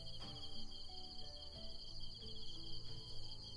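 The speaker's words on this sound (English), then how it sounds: "then we can hear the crickets and so on" Steady, continuous night-time cricket chirping from a FoundryVTT ambient effect fills the scene, a high shrill trilling that holds evenly throughout with a soft low hum underneath.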